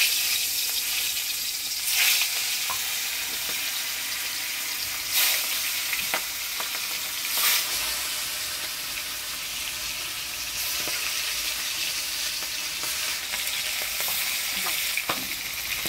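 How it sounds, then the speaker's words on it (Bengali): Rita fish fry in a wok, a dense, unbroken sizzling hiss lasting the whole stretch, punctuated by a few louder crackling flare-ups and faint stirring touches. "মাছগুলো কড়াইতে দিলাম,"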